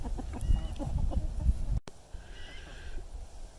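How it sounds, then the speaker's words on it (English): Chickens and a rooster in a movable chicken tractor give clucks and a harsh crowing call up close for under two seconds, then the birds fall quieter with soft background chatter. "And he loves to crow when I'm recording a video."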